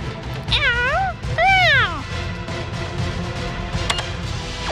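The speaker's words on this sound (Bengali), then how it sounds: "ওই বেড়ালটাকে ধরো।" A cartoon cat gives two drawn-out, rising-then-falling meows in quick succession, close and prominent, over a busy background of music and effects, with a short high squeak later.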